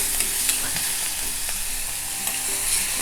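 Chopped onion sautéing and being stirred in a pan for a Konkan-style vegetable dish, a steady close sizzle with light scraping stir strokes throughout, no voices.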